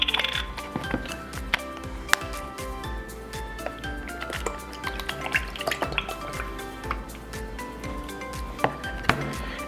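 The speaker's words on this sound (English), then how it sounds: "take your heavy whipping cream and pour it into a mixing bowl" Heavy whipping cream poured into a mixing bowl in a home kitchen, heard as a soft liquid trickle with light drips and small clinks scattered throughout, fairly quiet and close.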